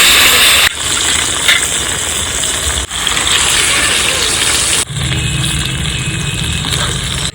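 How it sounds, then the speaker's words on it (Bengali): A whole tilapia, coated in ketchup, frying in hot oil with a loud, steady sizzling hiss, close up. The sizzle comes in a few continuous stretches broken by short cuts, with a deeper bubbling layer near the end. "এবার মাছটা আমি দিয়ে দিলাম তেলের মধ্যে"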